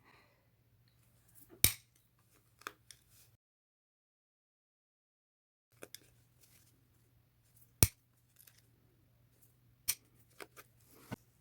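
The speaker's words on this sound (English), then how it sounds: "So I'm going to take a hole punch." A hole punch bites into a denim jeans waistband with a few sharp, crisp snaps spread out over several seconds, near and distinct amid quiet with small handling clicks.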